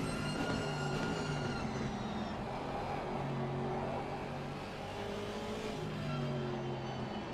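Several race car engines roar at once in a sim racing game at Silverstone, a dense, steady drone with rising and falling whines from multiple cars, loud and continuous with no voices.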